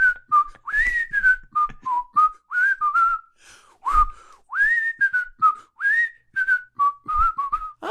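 A podcast guest whistles a lively melodic tune alone, in a series of clear, wavering phrases with short breaths between them, close and fairly loud.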